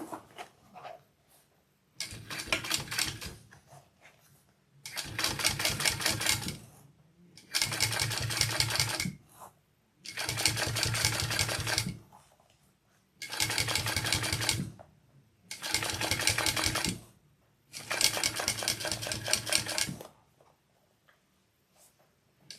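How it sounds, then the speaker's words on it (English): A sewing machine stitches the side seam of a fabric bucket bag in seven steady bursts of rapid mechanical whirring, each a few seconds long and separated by short pauses, close and clear with no talking. "let's sew the other side"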